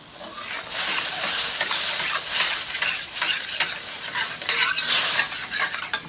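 Curry paste stir-fried in a hot wok for a duck egg curry, with a steady loud sizzle and repeated scraping strokes of a spatula against the pan, continuous throughout with no talking.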